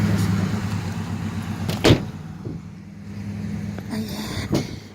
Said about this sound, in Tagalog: Malaking sasakyan sa Post Canada.